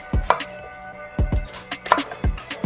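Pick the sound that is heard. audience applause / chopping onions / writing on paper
chopping onions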